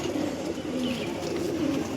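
Panjabi pigeons coo softly in repeated low throaty calls over a steady background hum, fairly near, with no talk.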